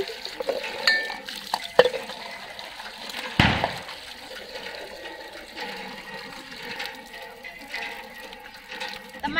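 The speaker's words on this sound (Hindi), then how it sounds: "मैंने लोटा अच्छे से धो लिया है, और इसमें जल ले लिया है" A brass lota pot is scrubbed and rinsed with water in a village home before a Diwali puja, with continuous scraping, sloshing and splashing, irregular clanks of metal and one louder knock partway through.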